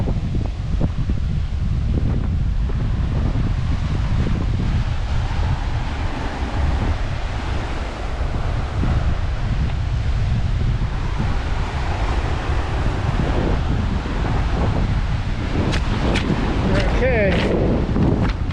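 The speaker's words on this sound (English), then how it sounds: "We are on the beach." Steady wind and breaking surf fill a rocky beach at Abalone Cove, a constant rushing roar with gusts buffeting the microphone and faint voices near the end.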